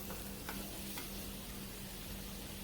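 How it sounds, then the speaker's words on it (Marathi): Sweet potato slices stir-fried over a low flame with cardamom powder and cashew-almond powder, a soft continuous sizzle with faint stirring scrapes, quiet and even throughout. "मी गॅस मंदच आहे ह्या स्टेजला छान परतून घ्यायचं आहे"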